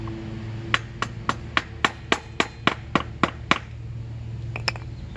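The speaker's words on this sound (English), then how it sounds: "I'm going to tap the axle a little bit further in." A motorcycle axle on a 1981 Yamaha XV750 is driven further in with a dozen evenly spaced, sharp metallic taps, followed by a brief pause and a few lighter quick taps, close and clear.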